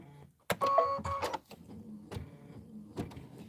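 Sewing machine stitching backwards while a pillow border is sewn, whirring in short motorized bursts with brief pauses between them, close and moderately loud.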